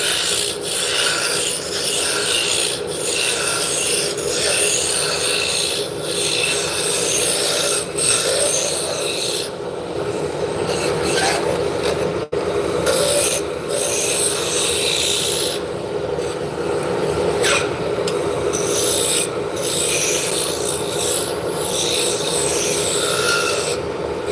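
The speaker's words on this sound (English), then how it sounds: "I'm going to take my spindle gouge and just start bringing the diameter down" A spindle gouge cuts into spinning wood on a lathe, bringing the diameter down toward a taper; a steady, loud rubbing rasp runs throughout with brief dips and surges as the tool moves along the piece.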